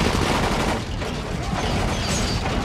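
Dense, continuous gunfire crackles in the zombie video game Dying Light, a loud, unbroken barrage of overlapping shots with no pauses.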